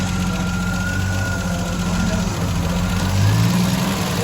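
A 1974 Triumph TR6 engine with a backfiring problem runs steadily at a slightly raised idle, a close, continuous low rumble that holds fairly even throughout.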